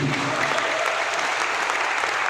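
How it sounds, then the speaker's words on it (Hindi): A large audience at a business presentation bursts into continuous, loud applause, a thick and unbroken roar of clapping hands with no break or lull. "जोरदार तालियां होनी चाहिए।"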